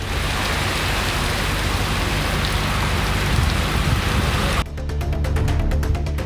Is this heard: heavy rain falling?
yes